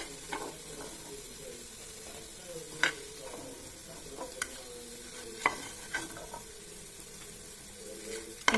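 Banana flower pakoras fry in a pan of oil with a faint, steady sizzle, broken by occasional sharp clinks and scrapes of a utensil against the pan.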